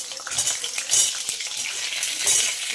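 Pointed gourd sizzles in hot mustard oil with occasional scrapes and light clinks of a spoon stirring, loud and close.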